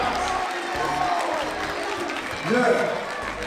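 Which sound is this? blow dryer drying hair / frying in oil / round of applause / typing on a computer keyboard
round of applause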